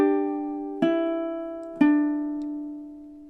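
A ukulele plays measure 23 of a soft lullaby: a ringing open note followed by two more plucked notes about a second apart, each sustaining and slowly decaying, close-miked with no other sound.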